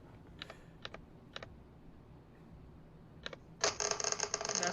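A dozen d20 dice rolled at a tabletop game, first a few scattered sharp clicks, then a dense, loud clattering burst as the whole handful tumbles together near the microphone.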